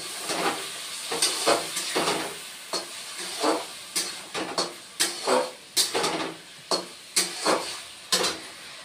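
Chana dal masala sizzling in a pan as a little water goes in and the heat is raised, with a steady hiss broken by repeated sharp bursts of spatter and stirring scrapes, close and fairly loud.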